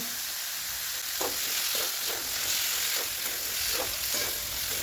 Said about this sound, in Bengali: এবার ছোলা আলু একই সাথে ভালো করে কষিয়ে নেব